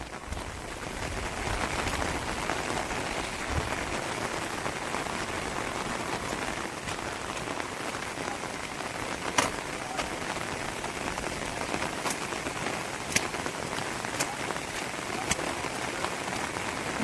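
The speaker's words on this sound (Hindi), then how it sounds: "उस दिन से बारिश एक पल को रुकी ही नहीं है" Heavy rain pours steadily over Jim Corbett tiger territory, a constant hiss of drops on surfaces with a few sharper, louder splats standing out now and then.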